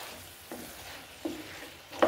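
Chicken fries in a hot pan with a constant close sizzle, broken by a few brief scraping stirs.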